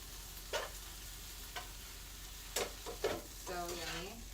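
Food stirred in a hot pan with garlic while it cooks, a soft constant sizzle under several quick scraping strokes of a utensil, the last one longer and scratchier, heard close up.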